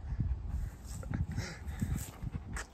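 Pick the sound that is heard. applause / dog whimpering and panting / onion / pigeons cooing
dog whimpering and panting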